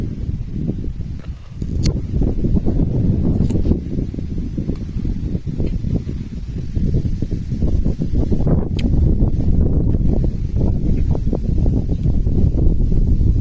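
Wind blows steadily across open rice fields in the countryside, a loud, continuous rustling gust noise with buffeting against the microphone and no one talking.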